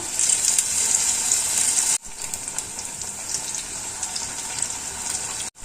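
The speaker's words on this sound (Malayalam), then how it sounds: "നമുക്ക് ബജി ഒന്ന് മാവിൽ മുക്കി ഇതിലോട്ട് ഇട്ട് കൊടുക്കാം" Batter-dipped chili bajji fry in hot oil with a bright, continuous hiss and crackle. The sizzle cuts out briefly twice and then surges back.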